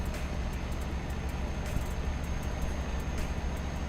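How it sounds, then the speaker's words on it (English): A steady low engine drone rumbles continuously from a Renault lorry in Euro Truck Simulator 2, with a constant even hum and no voices. "lorry sound seems a bit louder now"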